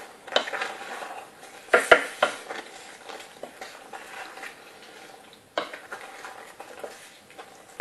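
A spoon stirs tomato pulp and water in a pot for an eggplant salad, giving soft scraping and clinking against the metal with a few sharper knocks, close by and with no talking.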